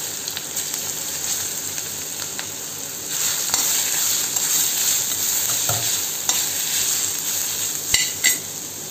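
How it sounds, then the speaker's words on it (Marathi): Grated mango being sautéed in ghee with cloves and cinnamon for a sweet mango dish, a steady sizzle with frequent stirring scrapes and occasional utensil clinks against the pan. "आपण तुपावर चांगलं परतून घ्यायचं आहे"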